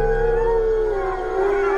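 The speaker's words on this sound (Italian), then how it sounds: "E parte un coro di ululati." Wolves in the wild howl together in chorus, several long overlapping wavering tones that rise and fall, loud and sustained throughout.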